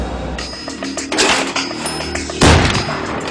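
Rifle gunfire sound effect: several sharp, loud reports over a busy background, with the heaviest blast coming late.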